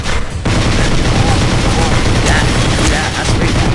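Dense, sustained gunfire from a Half-Life 2 mod shooter fills the stretch after a brief lull, with rapid overlapping shots and mechanical clatter, loud and continuous.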